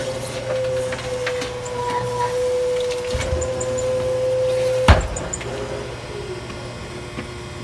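A tire changing machine rotates a tire on its wheel in a workshop, giving a steady mechanical hum with a sustained tone, then a sharp clunk near the end.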